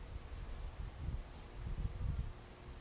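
A bee buzzes nearby in a low, steady drone that swells and fades slightly, with no voices present.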